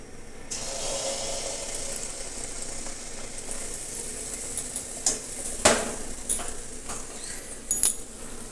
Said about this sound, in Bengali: একটু লাল লাল করে ভাজছি